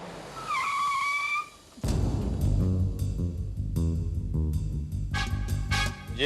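A car turns with its tires squealing in a short high screech, followed by a loud, dense rush of engine and road noise that stays close and steady.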